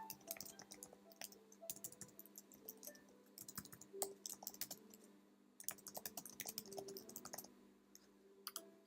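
Quick, irregular bursts of computer-keyboard typing enter a post title, with close crisp key clicks separated by brief pauses and no voices.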